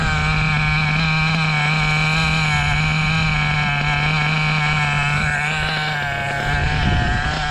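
Stock nitro engine of a Serpent SRX8GT on-road buggy runs continuously at a steady high-revving pitch, loud and close, with slight wavering near the end and no talking.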